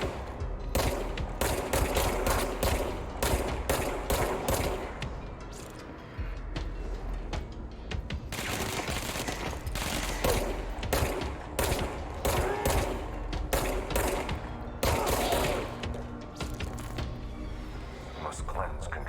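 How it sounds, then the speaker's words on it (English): Enemy gunfire in the video game Control: rapid bursts of automatic fire repeating in clusters throughout, loud and sharp, with a voice talking intermittently over it. "Stop shooting me, bro."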